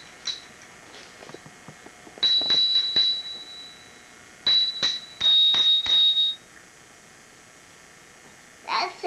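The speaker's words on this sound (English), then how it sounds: "How's this bell work?" A bell on a child's bike is rung several times in bright, ringing bursts, heard close by at a family Christmas gathering with voices talking between the rings.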